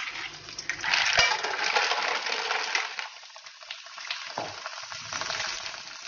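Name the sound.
mussels thrown into a pan of sizzling garlic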